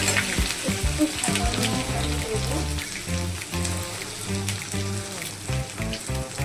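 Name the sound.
ginger frying in a pan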